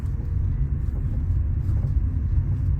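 A Tata Tiago EV electric car driving slowly toward a house, heard as a steady, low, muffled road rumble from inside the cabin with no distinct engine note, continuous throughout.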